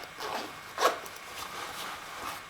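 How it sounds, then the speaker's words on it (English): A short leather jacket zipper pull close by, a quick rasp with a brief louder burst, quiet otherwise and no voices. "There are two zippers on the sides to expand the width of the jacket on the bottom"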